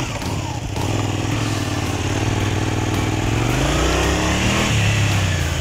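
A motorcycle rides slow figure-eight turns at low speed, its engine a steady close rumble that rises briefly in pitch with a touch of throttle partway through the turn.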